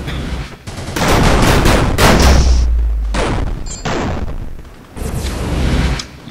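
Gunfire in the video game Murder Miners comes as loud, sharp bursts of shots separated by short pauses, close and punchy with ringing tails.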